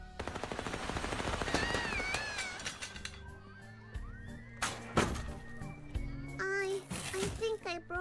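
Video game gunfire with real bullets bursts out in quick rattling shots, mixed with electronic game sounds and squeaky high-pitched character voices, while people talk over it.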